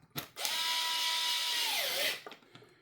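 A power driver whirs for about two seconds, driving a screw into the diffuser mount of an Arrma Infraction 6S RC car, the motor pitch sagging as it tightens, close and loud, with no talk.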